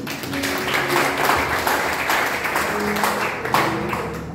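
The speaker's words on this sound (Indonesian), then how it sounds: "Ayo kita beri tepuk tangan untuk poin ini" A church congregation at a Sunday sermon gives loud, dense clapping that holds steady for several seconds before tapering slightly, with a few louder individual claps.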